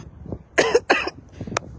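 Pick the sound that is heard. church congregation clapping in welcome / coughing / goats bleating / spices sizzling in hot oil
coughing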